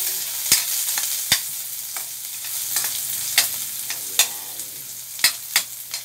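Malunggay and mixed vegetables sauté in a pan with a steady sizzle, broken by sharp, irregular clicks and scrapes of a utensil stirring against the metal, close and alone with no voices.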